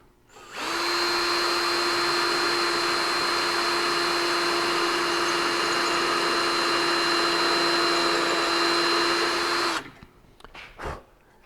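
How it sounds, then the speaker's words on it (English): A power drill whirs continuously at a steady high pitch for about nine seconds while drilling a hole in a workbench, then stops, followed by a few brief clunks. "let's drill us a hole here"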